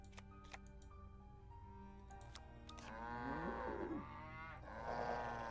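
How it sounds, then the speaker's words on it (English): Cattle mooing in the video game Nancy Drew: The Captive Curse, long drawn-out lowing calls arriving one after another over a steady background hum, fairly close and clear, with no talking. "There aren't really many cows left to kill."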